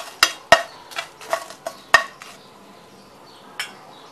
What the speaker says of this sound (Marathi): त्याच्यामध्ये जिरं आणि हा सर्व खडा मसाला भाजून घेते आधी